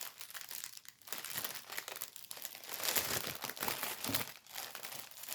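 Sticky plastic film is crinkled and peeled by hand for several seconds, a continuous close rustling crackle that swells and fades with the handling, with no voices.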